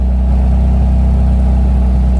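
K-swapped junkyard Honda Integra fitted with a cheap no-name eBay exhaust, idling close by with a loud, deep, steady drone and a fast, even throb.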